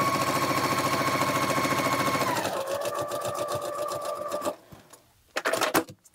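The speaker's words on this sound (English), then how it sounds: "sew one of the half square triangles onto one of the quarter square triangles" A sewing machine stitches half-square quilt triangles onto quarter-square triangles, running in a fast steady whir that slows in pitch partway through, stops, then gives a couple of short final bursts up close.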